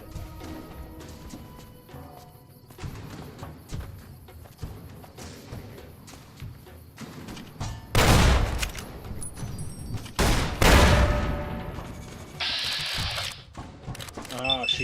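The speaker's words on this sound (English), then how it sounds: "she's running a grenade fire thing" Grenade launcher fire in the video game Fallout New Vegas, modded, with sharp booming blasts near the middle and scattered thumps and pops around them, heard under a person's talk.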